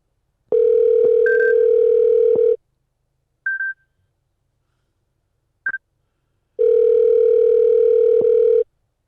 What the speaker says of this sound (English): you don't hear that ringing?